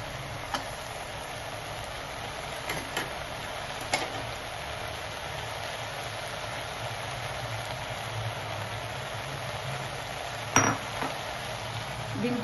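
Washed dry fruits tossed into a hot pan and stirred give a steady, moderate sizzle. Occasional sharp clinks of a utensil against the pan cut through, with louder scraping near the end.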